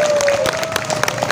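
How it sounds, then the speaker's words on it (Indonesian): Audience applause at a large community meetup in Ponorogo, a brief burst of scattered claps with crowd murmur and a steady electronic hum underneath. "Tepuk tangan."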